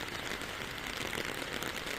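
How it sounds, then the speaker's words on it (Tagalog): Heavy rain keeps falling during flooding that reached homes, a steady, even hiss of downpour, fairly faint and with no talking. "pero patuloy pa rin yung ulan ngayon"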